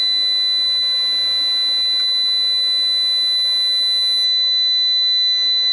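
A POW-HVM6.2M-48V solar inverter with a fault screams a loud, continuous electronic alarm, a piercing steady high tone over a low pulsing hum, close and unbroken throughout with no talking.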